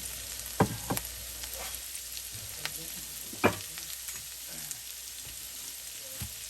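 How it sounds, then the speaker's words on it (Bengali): Chopped onion frying in a little butter gives a quiet, steady sizzle with a few sharp stirring knocks and scrapes of a spoon against the pan, heard close and alone. "আমি সামান্য একটু বাটার দিয়ে তারপরে এই পেঁয়াজটা পেঁয়াজ কুচি করে কেটে দিয়েছি"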